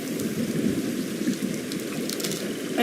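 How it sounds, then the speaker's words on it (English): Steady rain pours down in a dense, even hiss, with a low rumble of thunder running beneath it the whole time, close and moderately loud, with no voices. "whether I need to adjust the sounds from the rain and music in the background"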